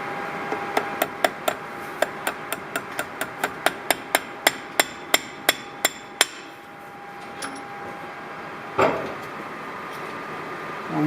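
Steel hammer blows drive a part home against a support block, about twenty sharp, ringing strikes in a quick even rhythm that stop abruptly, followed by a lone knock and faint shuffling in a quiet workshop.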